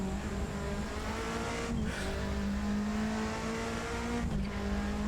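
A Ford Sierra Cosworth RS500 race car in Assetto Corsa drones along with a steady, buzzing engine note at sustained revs, briefly dipping twice as the driver lifts off and recovers, loud and close throughout.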